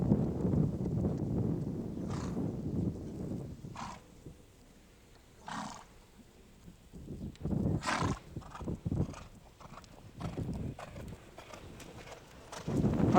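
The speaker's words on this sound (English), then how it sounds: "This way you get familiar with the horse's rhythm by increasing the speed and decreasing it." A horse ridden during an equestrian lesson, hooves thudding in uneven bursts as the pace rises and falls, with a couple of snorts or whinnies cutting through a quieter stretch midway; moderately near, no talk over it.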